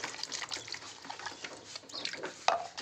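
Water splashes and trickles as a chicks' water container is rinsed out, with soft irregular sloshing at close range and a brief clatter near the end.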